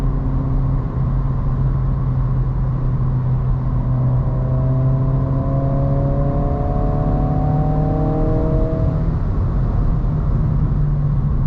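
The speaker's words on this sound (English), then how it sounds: "it's like a more of like a diverter valve noise than an actual turbocharger noise" Inside a cabin, an affordable manual car's turbocharged engine hums steadily at low pitch, with rising whine-like tones swelling and fading through the middle as a subtle diverter valve noise sits beneath the drone; no talking.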